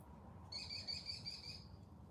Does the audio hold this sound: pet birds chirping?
yes